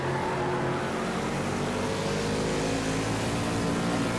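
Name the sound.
NASCAR race car engine on throttle, video game Project CARS 2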